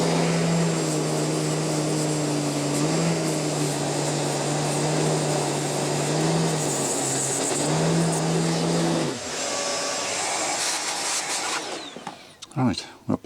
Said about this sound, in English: So I'm just going to clean that up with a flat wheel